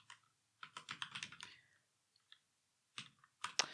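Computer keyboard typing C code, close and quiet, in quick bursts of clicking keystrokes separated by short pauses.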